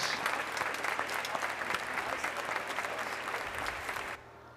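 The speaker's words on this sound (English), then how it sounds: "Let's give them a big round of applause." An audience applauds at a college graduation ceremony in a sustained, even burst of clapping that cuts off abruptly near the end, leaving quiet room tone.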